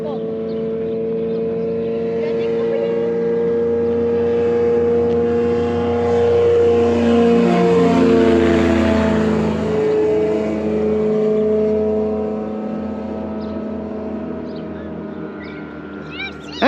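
A light aircraft takes off from a private airstrip in Argentina: a loud propeller engine drones steadily, swells as it passes close by, then drops away with a falling pitch, with people talking over it.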